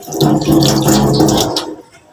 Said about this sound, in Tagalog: Konting tubig para magiging basa yung ating ipapakain sa kanila.